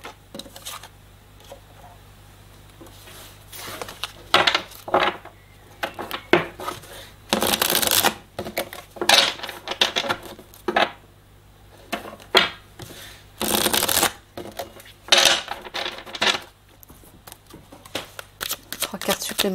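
Tarot cards are shuffled and drawn in repeated crisp riffling and slapping bursts, close up, while someone speaks French over them.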